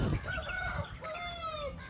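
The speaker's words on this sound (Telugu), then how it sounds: "చూసారు కదా కోడి పందాల కింద వచ్చే సంవత్సరం సంక్రాంతికి సిద్ధంగా అవుతున్నాయి అనమాట కోళ్ళు" Roosters being raised for cockfighting crow and cluck close by, with a loud drawn-out crow rising over steady farmyard clucking.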